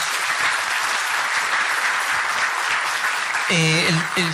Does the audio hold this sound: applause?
yes